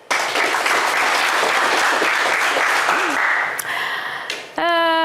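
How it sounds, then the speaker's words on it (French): A French game-show studio audience breaks into loud, dense applause that carries on steadily, then fades into a brief electronic jingle with rising tones near the end. "on vous applaudit très fort."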